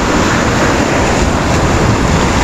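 Sea surf rolling in at the river mouth of Garita Palmera, a loud, continuous wash of breaking waves with constant roar and some wind buffeting, no voices.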